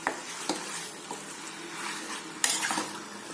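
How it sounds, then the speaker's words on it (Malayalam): Chicken curry masala sautéed in a pan, a quiet sizzle beneath intermittent scraping and clinks of a spoon against the pan, one sharper knock near the end, no voices. "നല്ല രീതിയിൽ വഴറ്റി കൊടുക്കുക."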